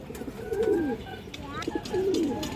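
Pigeons cooing in a breeder's loft, a few soft rolling coos repeating near and moderately quiet, with a voice speaking faintly in the background.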